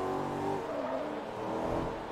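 Audi S5 engine in Forza Motorsport 3, a steady, loud droning hum holding nearly level with slight pitch wavering, no talk over it.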